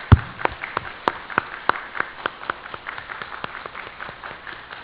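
A church congregation applauds after a sermon, with a burst of brisk, fairly loud clapping in an irregular rhythm that thins out over several seconds.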